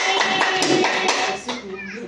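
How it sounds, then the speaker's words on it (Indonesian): A class of children and teachers claps for Ibu Eri at a positive-discipline good-practice sharing session. A short burst of brisk, fairly loud hand claps fades off, with voices audible alongside. "tepuk tangan buat Ibu Eri"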